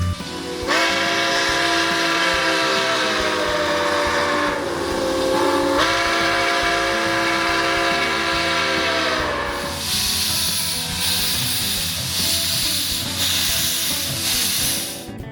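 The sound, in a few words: Nickel Plate Road 765 steam locomotive whistling and leaving the station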